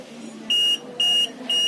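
A UPS board's low-battery cutoff buzzer sounds three evenly spaced, shrill electronic beeps of about a quarter second each, close and loud over a low hum.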